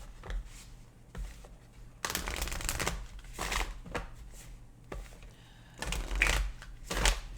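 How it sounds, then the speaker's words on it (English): Oracle cards shuffled by hand in several quick riffling bursts, close and crisp, with short pauses between them. "Okay, I have to shuffle these."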